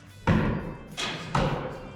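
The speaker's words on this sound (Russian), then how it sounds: "Выстрел делаю." Bow shots during archery training, three soft dull thuds spaced under a second apart, close and moderately quiet in a calm indoor space.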